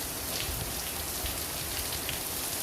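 Heavy rain pours down steadily in a hilly outdoor spot, a dense, even hiss of drops on surfaces with no other sounds standing out.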